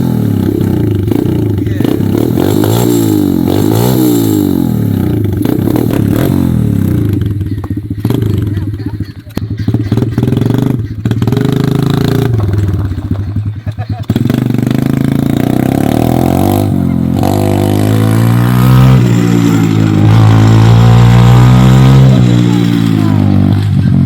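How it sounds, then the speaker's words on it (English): An ATV four-wheeler engine fires up and revs loudly and close for the whole stretch, the pitch repeatedly rising and falling with some clattering, while people talk over it. "We're gonna see if it'll fire up."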